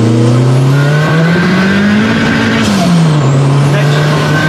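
A tuned car accelerates hard in second gear on a damp surface, its loud engine note climbing steadily, dipping, then pulling on, heard close and continuous from inside.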